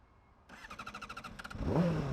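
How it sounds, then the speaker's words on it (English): A Honda CBR600RR motorcycle is hot-started with the button pressed and the throttle twisted: a quiet run of rapid, even starter-cranking pulses for about a second, then the engine catches and rises into a rough, louder rev. "if I want to do a hot start, then I have to just, instead of only pushing the button, I have to also twist the throttle"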